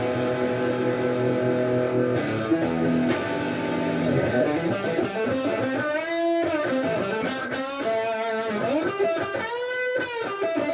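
A modified Chibson Slash signature electric guitar plays through a distortion setting, sustained overdriven notes and bends ringing out with sliding pitch and a thick, buzzy tone, loud and up close.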